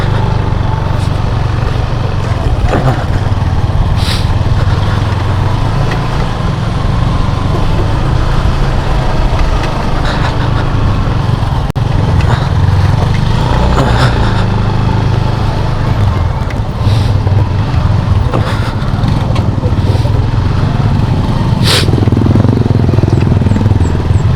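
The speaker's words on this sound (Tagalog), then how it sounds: "di na ba ni mapalong akong motor" Motorcycle engine that will not switch off, idling steadily and close by with a continuous low putter and a few sharp clicks, loud throughout.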